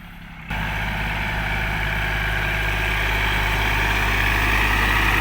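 A Kubota tractor's heavy diesel engine, with a corn seeder attached, starts up abruptly and then runs steadily, loud and close, with a constant low drone and rattle.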